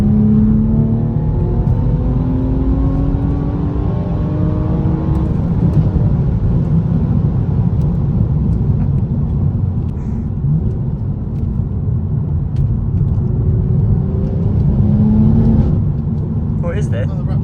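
Tuned BMW M240i with a natural exhaust tone and no pops or bangs, droning and rising as the car accelerates on the road, loud and continuous throughout with steady engine rumble and gear changes.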